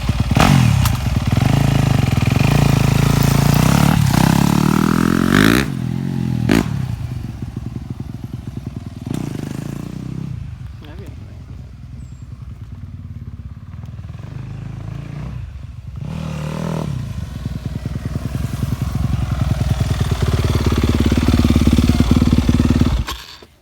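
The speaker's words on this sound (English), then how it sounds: "You want to let it out slow with a little bit of gas." Dirt bike pulling away as the clutch is let out slowly with a little gas, a close engine that holds a steady drone, dips, then builds again over about twenty seconds, alone without talk.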